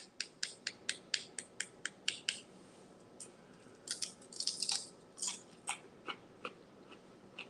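Crisp, crackly bites and chews of baked cottage cheese chips, a quick series of sharp close crunches followed by slower, scattered chewing crackles, with no talking.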